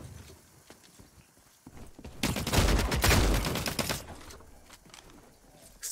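Shotgun fire in the video game The Cycle: Frontier: a dense, loud burst of blasts erupts in the middle, framed by quieter scattered clicks and game noise, with no talking.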